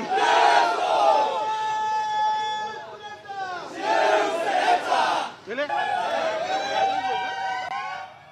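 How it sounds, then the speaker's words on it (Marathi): Yuva Sena supporters celebrate a senate election victory with loud, sustained group shouting and chanting in three swelling bursts, many voices raised together nearby. "एकतर्फी विजयानंतर ठाकरेंच्या युवासेनेने जल्लोष केलाय"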